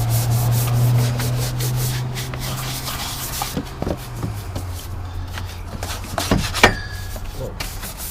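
A brush scrubs a dirty BMW E38 engine bay, giving close, uneven rubbing and scraping strokes with occasional sharp knocks, over a low steady hum that fades partway through.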